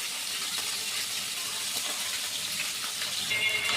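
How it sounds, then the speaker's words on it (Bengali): Small eel fish frying crisp in oil, a continuous, even hiss of sizzling oil at moderate level, close by, with faint crackles throughout and no voices. "মাছটা আমি একটু কড়া করে ভাজবো।"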